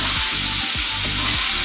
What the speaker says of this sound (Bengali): লবণ আর হলুদ দিয়ে উচ্ছেটাকে ভেজে নেব।